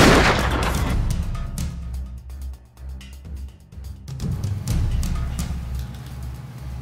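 Gunfire in an indoor shootout, a dense burst of loud, booming shots that runs nearly the whole time with only brief gaps, close and reverberant, with no talking.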